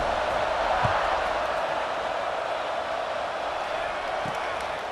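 Steady, dense roar of a stadium crowd at kickoff in EA Sports College Football 26, a broad continuous wash of voices with a couple of faint thumps, loud and unbroken throughout.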